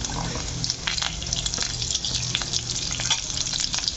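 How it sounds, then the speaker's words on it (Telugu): Green chillies and garlic fry in a pan for green chutney, a dense close sizzle with crackling spatters and light stirring across a few seconds, no voices. "ఇవన్నీ చక్కగా ఫ్రై చేసేసుకోవాలి"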